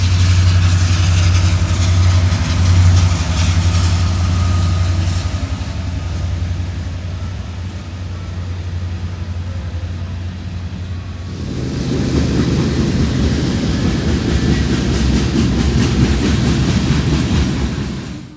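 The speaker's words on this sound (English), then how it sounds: "the train's coming in" A train rumbles nearby, a low steady engine drone that gives way to a broader, louder rolling roar as the cars move past.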